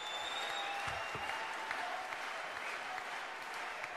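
Audience at a French UPR political rally applauding a speaker, a steady sustained wash of clapping from many hands filling the whole stretch at moderate level, with no voices on top.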